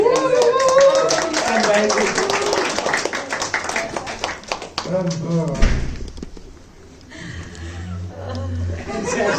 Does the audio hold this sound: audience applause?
yes